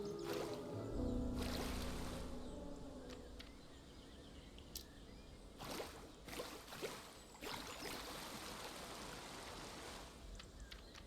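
Water pouring into sculpted terrain in the Prehistoric Kingdom park-building game: a soft continuous rushing and gurgling wash with a few brief splashy bursts, with ambient birdsong in the background.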